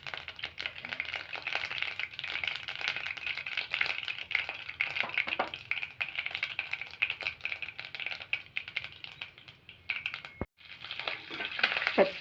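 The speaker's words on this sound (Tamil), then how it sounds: "வரமிளகா, கடுகு, உளுத்தம் பருப்பு போட்டாச்சு" Dried red chilli, mustard seeds and urad dal crackling and frying in hot oil, a steady fine sizzle with scattered pops and faint stirring, fairly quiet and close, no voice.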